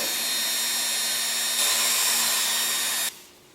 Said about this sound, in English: So this Dremel tip here is just a piece of thin sandpaper.